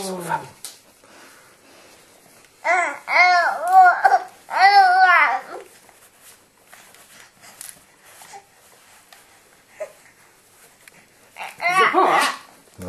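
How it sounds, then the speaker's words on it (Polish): A pet dog lets out a few loud, whiny barks and yelps in two close bursts, then one more later, with people talking quietly in a room between them. "nasza Kari, pieseczek nasz"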